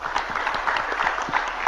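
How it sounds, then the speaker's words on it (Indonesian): An audience at an Islamic lecture claps on cue, a brief burst of fairly dense applause with some individual hand claps standing out, steady and mid-level with no talk. "tepuk tangan dulu semuanya."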